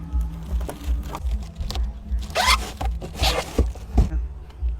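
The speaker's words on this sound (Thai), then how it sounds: "แก้ไขด้วยการติดเทปไปเลยนะคะ เพื่อประคองเขาไว้" Adhesive tape being pulled and pressed on to hold a plastic bag inside a foam box, with bursts of ripping and crinkling among soft handling noises at close range.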